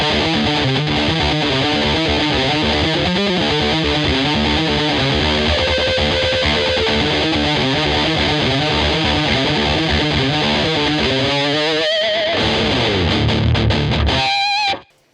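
Heavily distorted electric guitar chugging riffs through distortion turned all the way up and a Phase 90 phaser, with a sweeping, swirling effect, loud and continuous before cutting off abruptly at the end.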